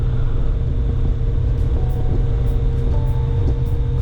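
A motorcycle rides along a road, its engine giving a loud, steady low rumble with constant wind and road roar and a few faint high ticks, no talk.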